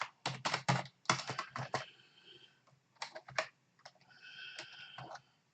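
Code being typed on a computer keyboard, with quick clustered bursts of close, crisp keystroke clicks separated by short pauses and no talking.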